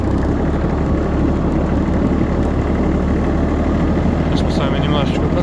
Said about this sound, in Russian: Немножечко прокатимся и поставим трактор на его новое временное место жительства